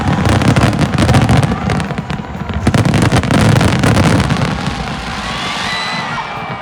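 New Year fireworks at Lusail crackle and boom in a dense, continuous barrage, loud and rumbling with layered bursts, while a crowd murmurs and cheers beneath, fading slightly toward the end.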